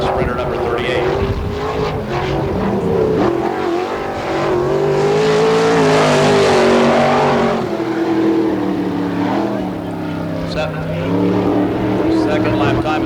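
A sprint car engine roars on a dirt oval at the All Star Circuit of Champions Florida Speedweek race in Barberville, loud and wavering as it laps, with an announcer talking over it.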